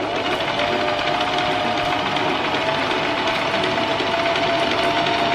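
A sewing machine hums loud and steady throughout as it stitches a patchwork fabric top, with a constant motor drone and no pauses.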